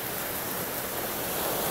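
Ocean waves wash against a Hawaii shoreline as a brief, even roar of surf. The broad, steady rushing noise has no distinct breaks and no voices.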